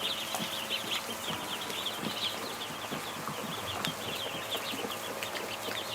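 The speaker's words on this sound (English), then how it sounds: "This many ducklings in one place." Dense chorus of many newly hatched ducklings and goslings peeping together, continuous high chirps overlapping throughout at steady close range, with no talk.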